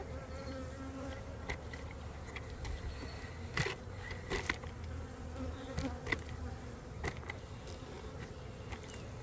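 Honeybees drone steadily around a nuc hive after a newspaper combine, a continuous buzzing swarm close by with louder passes as individual bees fly near, and no talking.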